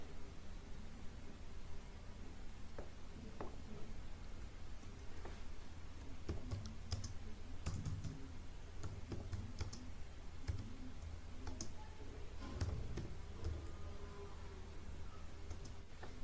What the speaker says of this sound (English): In the space provided for typing text, you want to type soil and human intervention.